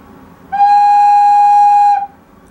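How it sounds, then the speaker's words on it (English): A flute is played with the fingers lifted off all the holes, giving one sustained, bright high note that starts sharply, holds steady for about a second and a half and then stops. No other sound is present. "That's really the beginning of all your flute sounds."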